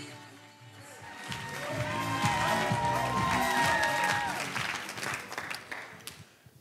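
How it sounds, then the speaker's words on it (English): An audience at a health summit keeps applauding as the next speaker comes to the stage, a dense swell of clapping that builds, holds loud and then thins out, with music playing underneath. "Keep that round of applause going"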